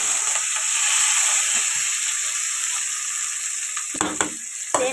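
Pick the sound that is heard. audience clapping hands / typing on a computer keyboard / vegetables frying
vegetables frying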